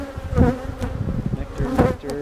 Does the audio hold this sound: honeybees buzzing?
yes